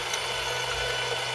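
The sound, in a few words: deburring outside of brass cartridge case with Lee tool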